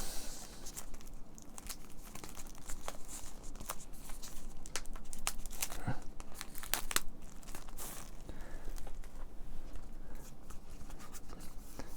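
Plastic packaging of a mystery CD is cut open, giving continuous close crinkling, tearing and scratching with a few sharper snips and rustles throughout, no voices.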